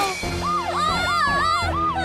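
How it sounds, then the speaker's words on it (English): A wailing siren rises and falls in repeated sweeping cycles, loud and close, over a low background rumble. "Hey, isn't that a siren?"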